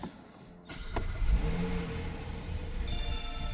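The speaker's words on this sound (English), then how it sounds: "let me run the car and make sure there's no other lights on the dashboard besides from what we did" A 2020 Hyundai Palisade with electronic parking brake starting up after a rear brake pad job, a click followed by the engine catching and settling into a low, steady idle close by.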